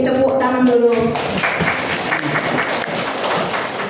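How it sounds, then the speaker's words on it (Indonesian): Applause from an audience at a teachers' gathering at an Indonesian madrasah, a dense broadband patter of many hands that rises just after a voice stops and keeps going steadily. "Terima kasih, tepuk tangan dulu."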